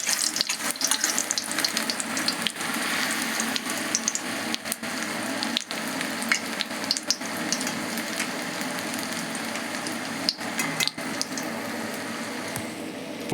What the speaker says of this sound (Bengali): ডুবিয়ে নেওয়ার পর এটা গরম তেলের মধ্যে দিয়ে দিলাম